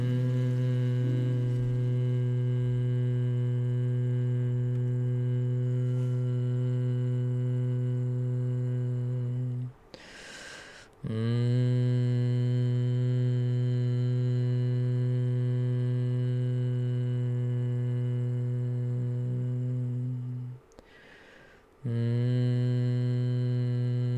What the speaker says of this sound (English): Make a gentle humming sound while exploring moving around the different cavities of your body.